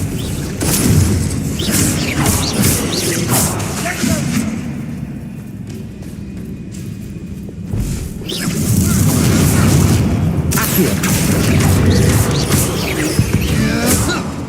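Confringo blasting spells burst in the Hogwarts Legacy video game, a run of heavy booms and crashes in a cavern during combat, loud at the start and again in the second half with a quieter stretch between, game voices mixed in.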